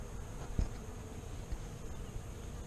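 Honeybees buzz faintly around a Flow Hive, a low, steady, distant hum with a few small knocks and no voices.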